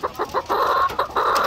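White Leghorn and Black Australorp laying hens clucking close by, a run of short rhythmic clucks followed by a longer drawn-out cackle and a few more clucks.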